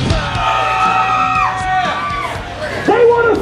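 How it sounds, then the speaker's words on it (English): Crowd at a pole-dancing contest yelling, whooping and cheering for contestants, loud and near, with excited voices rising and falling over continuous crowd noise. "Based on your applause, we will choose our winner."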